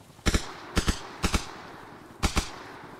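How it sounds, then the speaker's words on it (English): Teammates firing guns in the military shooter Arma Reforger, four quick paired bursts of gunfire spread over a few seconds, sharp and fairly close, with no talk. "my teammates right here shooting"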